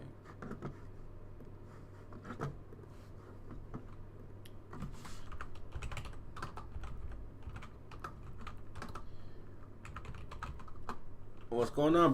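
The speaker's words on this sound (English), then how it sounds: "Oh, typing the wrong thing." Typing on a computer keyboard during a gaming stream, a steady run of quick, close clicks and taps that goes on throughout, with a low background hum and a louder clatter near the end.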